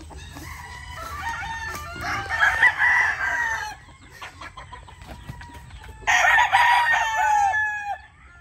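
Battle stag roosters crowing on a farm, with two loud, drawn-out crows a few seconds apart over a background of clucking and farmyard noise.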